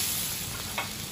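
Water is poured into a pan of sizzling chicken pieces, a loud, steady hiss and bubbling close by, with a short splashing swell partway through and no talking.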